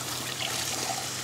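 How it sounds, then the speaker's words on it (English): Tomato, onion and beetroot puree is poured into a cooking pan for a sweet corn curry, making a soft, steady liquid trickle that carries on alone at low volume. "Time to add our tomato, onion and beetroot puree."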